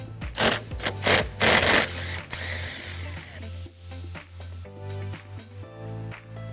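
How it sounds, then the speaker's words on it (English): Ratcheting clicks and metallic scraping as a 12mm socket loosens the nut on the battery terminal of a 2006 Toyota Highlander, loud bursts early on, then quieter repeated clicks with a low hum underneath. "On the battery, I'm going to be removing this nut using a 12mm socket."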